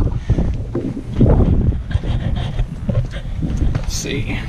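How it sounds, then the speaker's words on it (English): Strong outdoor wind buffets the microphone in loud, uneven gusts with a deep rumble, while someone talks over it beside a 2011 Dodge 3500 crew cab Cummins 4x4 pickup. "Wow, that wind is something in it."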